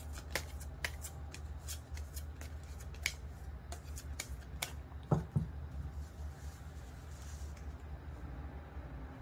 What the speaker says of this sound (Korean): 카드를 뽑아볼게요